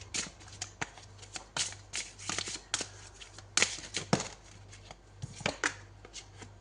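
Tarot cards are shuffled by hand in a rapid series of crisp slaps and riffles, uneven in rhythm and close by, over a faint steady low hum.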